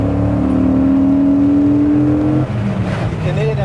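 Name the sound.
Dodge Viper GTS 8.0L V10 engine induction accelerating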